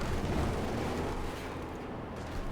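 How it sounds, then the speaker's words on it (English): Artillery-type field gun fire in a Company of Heroes 2 battle: a dense, rumbling blast wash that swells early and lingers, loud and continuous with no clear separate shots, no voices. "Field gun shoots and whiffs."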